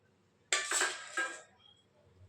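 A serving spoon clinks and scrapes against a plate as cooked rice is served out, giving a short cluster of close, bright metallic taps that fade quickly.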